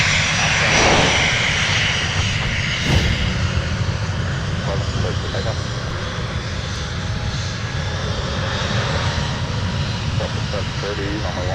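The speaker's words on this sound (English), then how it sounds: "our Icelandair flight is lined up for the south parallel" Icelandair jet from Reykjavik landing on the south parallel runway at Minneapolis airport, a steady loud engine roar with a brief surge early on, while someone talks over it throughout.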